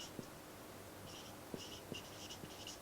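A marker squeaks and taps on a board while a sentence is written, with short scratchy strokes and a few sharp clicks across a quiet room.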